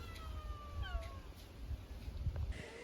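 Several faint cat meows with rising and falling pitch, heard at a distance in a muddy garden over a low outdoor rumble and background hiss.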